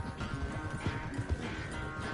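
Horse hooves clip-clop in a steady trotting rhythm in a video game, close and moderately loud over a dense background of game sound.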